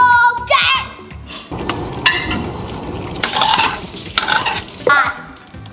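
French toast sizzles in a hot pan in a home kitchen while a utensil scrapes and stirs, the frying hiss running throughout beneath some brief background voices.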